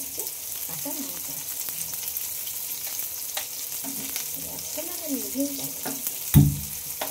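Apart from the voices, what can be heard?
chopped onions and green chilies frying in oil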